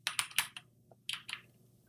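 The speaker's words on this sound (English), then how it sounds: "I'm going to start typing my search." A computer keyboard being typed on for a search: a quick burst of several close key clicks, a short pause with one soft tap, then another cluster of clicks, with no voices.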